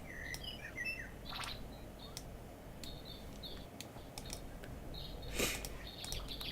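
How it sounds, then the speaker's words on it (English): Birds chirp and sing in the background, with scattered high tweets and short trills over a low, steady ambient hum, fairly faint and with no voices. "As we hear the soothing bird song in the background"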